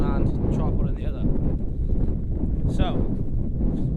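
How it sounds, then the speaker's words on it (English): Wind buffeting the microphone on a coastal footpath, a continuous loud roaring rumble throughout, with someone talking over it. "It's a bit windy"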